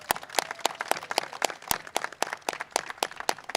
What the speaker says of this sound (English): Yes, a round of applause for them.